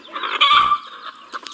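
A hen clucking in a narrated fable about the goose that laid golden eggs, a short loud squawking cluck followed by a couple of fainter clucks, close and clear with no voice over it.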